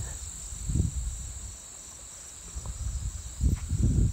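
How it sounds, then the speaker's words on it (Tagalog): Crickets chirp at night in rural Bicol, a continuous high, shrill trill holding steady throughout, with soft low rustles and handling bumps underneath. "Mga guni-guni, naririnig ng mga idol, mga guni-guni"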